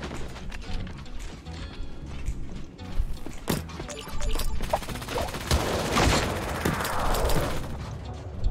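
Sustained rapid gunfire from a Gatling gun in the video game Creative Destruction, a dense continuous rattle building and holding across the clip with other game effects around it.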